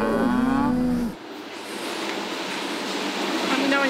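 A cow moos loudly and close for about a second, followed by a breezy, rushing outdoor background on a desert dairy farm, with a faint second low moo near the end.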